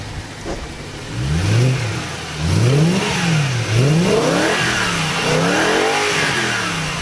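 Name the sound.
car engine revving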